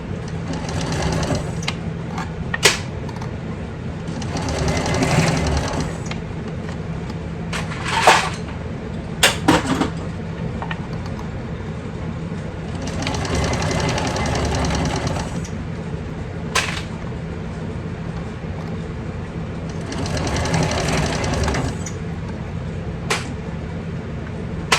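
A sewing machine stitching and back-stitching a handbag seam runs in several short bursts of rapid mechanical whirring, close and steady, separated by pauses with small clicks and handling noises.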